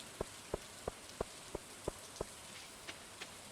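Rain falls in the Stardew Valley video game as a steady, faint hiss, broken by a run of evenly spaced soft taps, about seven in quick succession, with two fainter ones after a pause.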